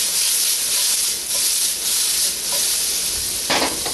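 Garlic roasting in a hot pan for lo mein, giving a loud, steady broadband sizzle with a few scraping stir strokes. A sharper burst of frying crackle comes near the end. No voices.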